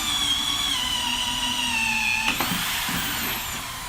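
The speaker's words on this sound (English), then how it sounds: "we're going to drill this PVC" A power drill fitted with a Morse bit bores into PVC pipe, its steady high whine running loud and close before the pitch shifts as the bit breaks through near the end.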